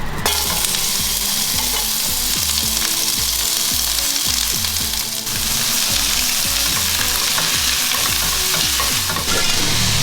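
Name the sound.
frying onion and garlic in oil in a wok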